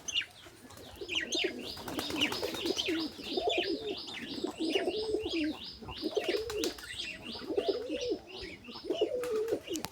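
Pigeons, among them a white one, coo steadily and close by in rolling, repeated phrases, mixed with occasional thin chirps, lasting throughout with no talking.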